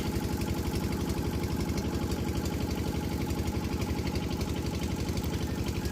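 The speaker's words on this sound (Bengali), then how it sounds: "তো আমরা অবশেষে নৌকার ভ্রমণ শুরু করলাম।" A boat engine runs steadily during a trip across a haor wetland, a constant close mechanical drone with a rapid regular throb and no voices.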